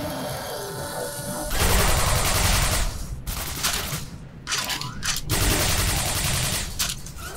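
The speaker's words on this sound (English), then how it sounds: "Got a laser rifle." Laser rifle firing in Quake 4, a loud sustained crackling buzz of continuous fire in long stretches broken by brief pauses, harsh and close, mixed with other game noise.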